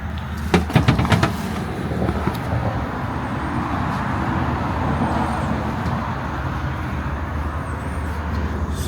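A rough old work truck drives along, giving a steady low engine and road rumble from inside the cab, with a few sharp knocks and rattles near the start and no talking.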